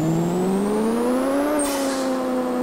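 A C6 Corvette engine in the Pixel Car Racer video game holds a loud, steady drone whose pitch climbs, briefly shifts, then settles and carries on at a constant level, with no talking.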